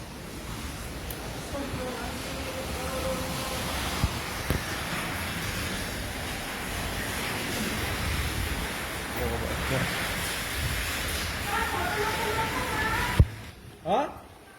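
Strong wind with heavy rain roars as a dense, steady wash of noise in Sekarpuro, Malang, with gusts swelling and fading and a sharp knock near the end; voices are faintly audible beneath the storm.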